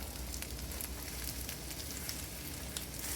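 An omelette fries softly in a pan with the heat already switched off, giving a steady, faint sizzle that continues evenly, with no voices.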